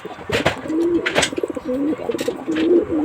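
Native and racing pigeons coo in low, rolling, repeated calls at close range, mixed with wing flutters and light rustling, with no talking.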